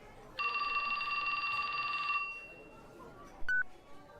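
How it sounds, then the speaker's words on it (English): A phone rings in the video game 428: Shibuya Scramble, a bright electronic trill lasting under two seconds over quiet background murmur, followed by a short beep. "His phone rang."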